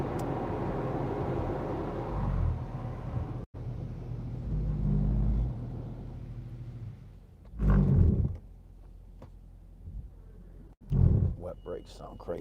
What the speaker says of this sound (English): Wet brakes sound crazy on this motherfucker